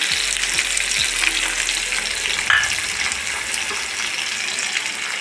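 Garlic cloves sautéing in oil in a pan for a raw banana peel stir-fry, a loud, continuous hissing sizzle with a faint low hum at the start.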